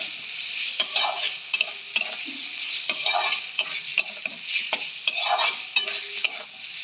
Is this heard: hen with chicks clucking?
no